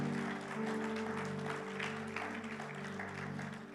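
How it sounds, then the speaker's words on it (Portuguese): Dense applause from a church audience during a Portuguese sermon, continuous and steady, blended with sustained organ or keyboard tones underneath throughout. "Você pode aplaudir bem forte ao Senhor?"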